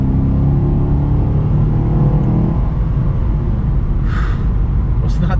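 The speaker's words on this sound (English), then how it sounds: "I kind of like the single mode exhaust" A Chevy SS with single-mode exhaust revs close by, a steady, loud, deep rumble through the whole stretch, with a brief higher hiss partway through.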